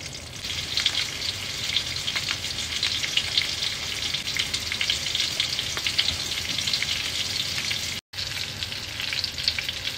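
Food fries in hot oil until golden brown, producing a dense, even crackling sizzle close by that continues almost without pause apart from one brief silent gap near the end.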